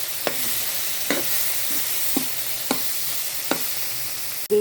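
Fried tofu being stirred with pepper in a pan, a soft sizzle underneath with about six distinct scraping strokes at a regular pace, then a sharper clatter at the end.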